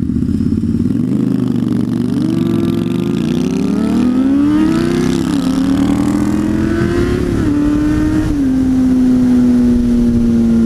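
A Harley-Davidson V-Rod motorcycle ridden after its exhaust baffle blew out, the engine droning loud and continuous as it rises and shifts through gears with rumbling pitch changes, heard up close from the rider's position.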